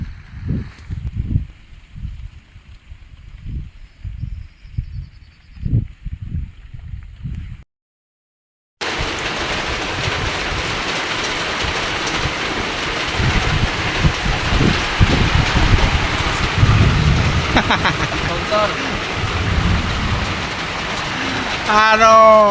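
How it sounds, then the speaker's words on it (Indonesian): Heavy rain sets in on a fishing outing, a dense, steady roar that follows a stretch of voices and a short gap. "Aduh, harinya hujan."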